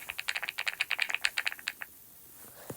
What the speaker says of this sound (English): should I change my keyboard sound?